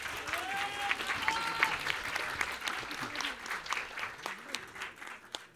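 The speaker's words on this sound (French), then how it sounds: "Un tonnerre d'applaudissements, s'il vous plaît." An audience at a French-language panel event breaks into sustained applause, a dense crackle of many hands clapping at once, with scattered voices calling out over it.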